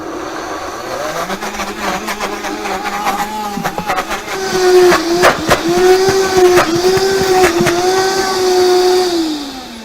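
A Vitamix blender motor whirs loudly and steadily for about ten seconds, its pitch sliding up and down as the speed changes, with sharp clicks and rattles throughout.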